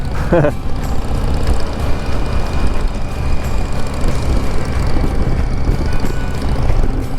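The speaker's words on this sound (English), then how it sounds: "See if the old 800 triple can chug up this in second." An old 800 triple motorcycle engine lugs up a steep grade in second gear at around 2200 RPM, a steady low rumble heard close up and continuous, mixed with wind noise.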